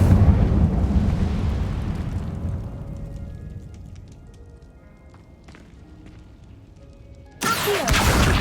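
Hogwarts Legacy's Incendio fire spell roars out as a loud, rumbling whoosh that slowly fades into quiet crackles, followed by a sudden loud burst near the end.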